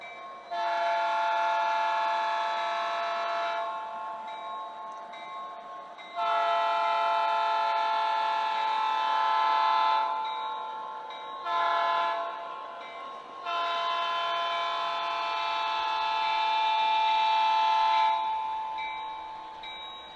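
A freight train horn blows long, loud, sustained blasts for the Grand Avenue extension road crossing, three main soundings with a short toot between them, heard nearby and alone.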